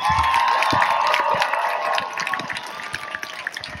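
A church audience cheers loudly, with a continuous roar of voices, whoops and some clapping from a full room, fading slightly toward the end.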